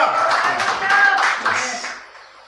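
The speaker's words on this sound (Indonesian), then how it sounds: "Tepuk tangan kepada Tuhan." A church congregation at a Sunday service claps together in a dense burst of hand claps that swells and then fades out over a couple of seconds, with voices mixed in.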